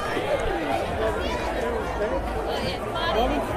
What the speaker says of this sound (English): So the crowd building at Connolly